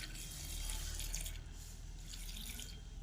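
Water is poured into a pressure cooker holding chopped banana flower with salt and turmeric, a soft, close splashing trickle lasting about three seconds, quiet and without talk.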